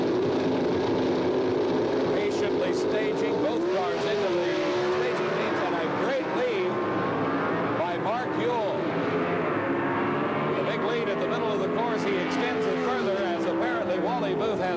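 Pro Stock drag racing cars, an American Motors entry against a Chevrolet, roar loudly with engine pitch rising and falling through gear changes. A commentator talks over the noise throughout.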